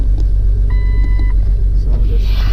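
A Jeep Cherokee XJ engine runs steadily with a loud, close low rumble, a faint beeping chime sounding briefly in the middle.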